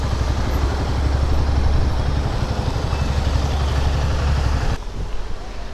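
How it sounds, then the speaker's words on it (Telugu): A motorcycle on a touring ride stands idling at Marine Drive in Mumbai, its engine thumping in a low, rapid, even pulse close by before the sound cuts off abruptly. "బైక్ అయితే ఆపేద్దాం"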